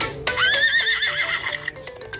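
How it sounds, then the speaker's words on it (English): Horse neighing from a Fisher-Price Laugh and Learn animal sounds toy: one clear electronic whinny with a descending, quavering pitch, followed by brief clip-clop hoof sounds. "Horse. Horse has hooves."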